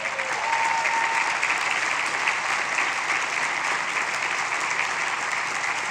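A large commencement crowd at Bridgewater State University claps steadily, a broad even wall of applause at moderate loudness with a faint voice briefly audible early on.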